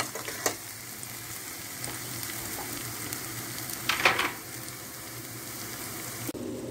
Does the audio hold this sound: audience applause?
no